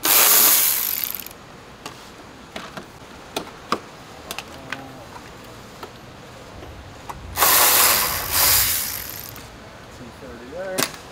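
A T30 driver loosening bumper screws on a 2001 Volkswagen Golf TDI: sparse ratcheting clicks and metallic ticks up close, with louder rustling bursts at the start and near the end, no talk.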